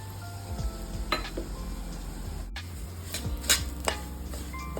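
Semolina (rava) roasting in a pan for ragi rava idli, a soft steady sizzle with scraping stir strokes and occasional clinks of a spoon against the metal, close and fairly quiet.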